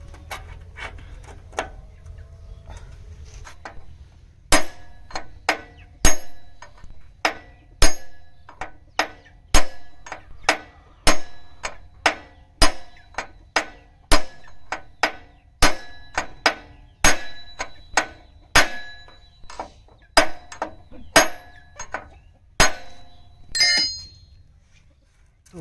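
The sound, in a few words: hammering a bearing into a Maschio rotavator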